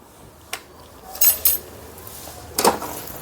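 A utensil scrapes and clinks against a pan as halwa made with poppy seeds is stirred, giving a few sharp metallic knocks and scrapes spread across a few seconds over a quiet background.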